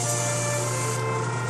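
A paint spray gun hisses steadily as it sprays clear thinner while being cleaned out, a continuous close airy spray with a faint hum beneath and no talk.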